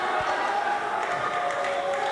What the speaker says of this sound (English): Crowd is going crazy. Everyone thinks he's stalling.